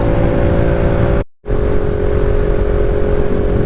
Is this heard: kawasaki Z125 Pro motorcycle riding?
yes